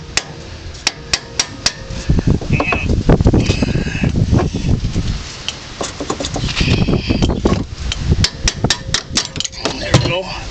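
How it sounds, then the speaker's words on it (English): A hammer whacks a car suspension strut part during strut removal, giving sharp metallic strikes repeated at uneven intervals, close and loud. "And I whack it with the hammer."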